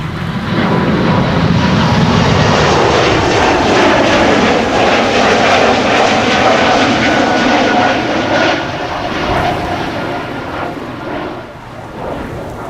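An airliner departing Amsterdam Schiphol's runway 18R/36L in a strong crosswind produces a loud, sustained jet roar close by, with wind noise. It holds steady, then fades somewhat near the end.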